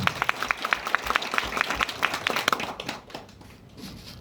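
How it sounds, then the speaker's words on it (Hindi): Audience at a company event in a Kathmandu resort clapping for themselves, a few distinct rhythmic claps over a crowd patter for a couple of seconds, then fading to a quieter room tone. "अपने लिए तालियां बजाइए"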